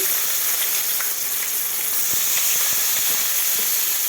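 Chopped onion and green chilli fry loudly in fish oil with cumin, bay leaf and garam masala for a Bengali fish curry. A dense sizzling hiss stays constant, broken by a few soft spoon taps.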